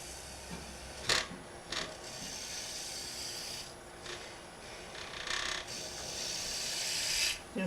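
Woodturning tool boring into the end grain of a hollow form on a lathe, a steady rasping scrape with several brief louder bursts of cutting, close and alone without talk.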